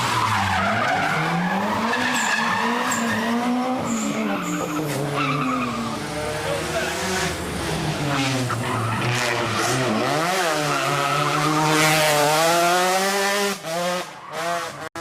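Cars drifting at night on a tight mountain road in the hills behind Kobe, between concrete walls, with engines revving and wavering and tires squealing loudly and continuously, close and sustained throughout.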